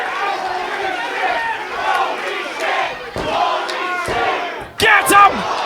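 A wrestling crowd at a live match shouts and cheers loudly, with chanting voices rising and falling in waves and a sharp burst of louder yelling near the end.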